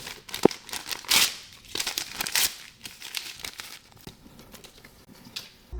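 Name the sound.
tearing apart a book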